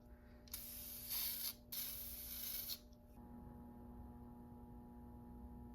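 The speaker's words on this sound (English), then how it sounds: "I sprayed a lot of smoke there" Two close bursts of aerosol smoke sprayed at a Notifier smoke detector on an AFP-400 fire alarm system, each a loud steady hiss of about a second, then a low electrical hum.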